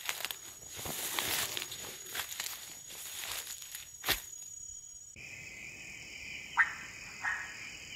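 Frogs and insects call through a night soundscape in Ethiopia, a layered chorus of croaks and chirps with steady high insect trills, distant and soft throughout.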